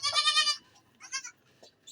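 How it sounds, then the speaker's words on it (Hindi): A goat that gave birth five days ago bleats while being fed: one loud, drawn-out bleat, then a shorter second call and a faint brief one, close by and fairly quiet overall. "ये हमारी बकरी ताज़ी सूई है जी, 5 दिन हो गए आज, इसको हम खिला रहे हैं जी"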